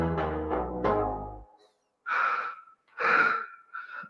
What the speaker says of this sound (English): Well, what's with the breathing?